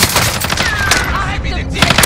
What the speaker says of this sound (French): Arrête de me tirer!